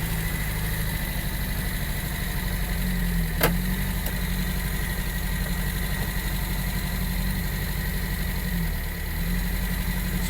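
A manual car engine idles steadily and low, with a rumbling drone throughout and a brief faint click near the middle; no clear rev rise as it pulls away.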